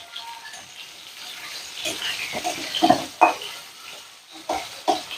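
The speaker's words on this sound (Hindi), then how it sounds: "प्याजटा हल्का लाल हवा तक इटाके भाजमा" Sliced onions fry in a pan with cumin and mustard seeds, a soft steady sizzle broken by a few stirring scrapes and clinks of a utensil, close and moderately quiet with no talking.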